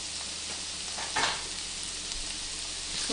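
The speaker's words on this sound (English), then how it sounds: "Hopefully you can hear me over the sizzling peppers, but I'm just adding in my jalapeno now." Diced peppers and jalapeno sizzle in a frying pan, a close, steady crackling hiss with a brief scrape of stirring partway through, no talking.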